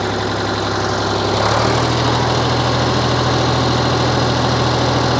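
A 1968 Ford Dexta 2000 tractor engine runs loud and close, its diesel chug rising to higher revs after a second and then holding steady. No one speaks.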